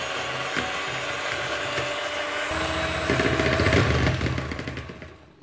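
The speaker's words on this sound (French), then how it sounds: "Je prends mon mixeur." Electric mixer whirring steadily and loudly while blending sorghum flour cake batter with yogurt, its motor pitch shifting partway through before winding down at the end.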